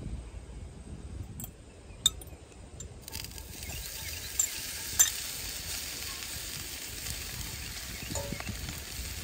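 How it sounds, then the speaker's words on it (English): Tofu marinated in tamari stir-fries in a pan at a campsite, making a soft, steady sizzle with a few sharp clinks of a utensil against the pan. "I am going to stir fry some tofu that's been marinated in some tamari"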